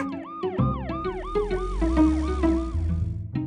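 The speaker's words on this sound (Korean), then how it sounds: "삐뻐 삐뻐. 우리 동네 지키는 경찰차였구나." A wailing police siren cycles rapidly up and down over a low engine rumble, loud and close, continuing throughout.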